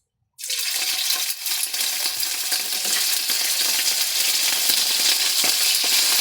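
Loud, steady sizzling of tawilis fish frying in hot oil, starting abruptly after a brief silence and crackling continuously close by with no voices.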